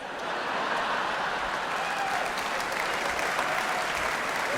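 Audience at a stand-up comedy show breaking into loud, sustained applause, a dense steady wash of clapping that holds evenly from start to finish.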